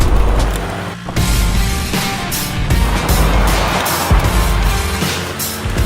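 2017 Ford Ranger pickup truck climbing a hill off-road, a loud continuous engine roar with rough rumbling and a few brief knocks and thumps, with no voices.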